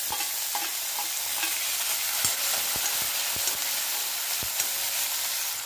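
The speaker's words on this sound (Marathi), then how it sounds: "टमाटर छान भाजलं की आपल्याला ते वाटण टाकून घ्यायचं आहे" Chopped tomatoes fry with curry leaves and crushed garlic in a pan for a Maharashtrian pigeon pea pod amti, giving a steady broadband sizzle with scattered sharp clicks and scrapes of stirring throughout.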